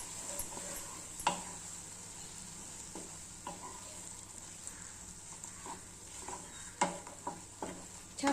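Raw potato and semolina mixture stirred in a frying pan, a quiet steady sizzle with scattered scraping taps of the spoon against the pan at close range.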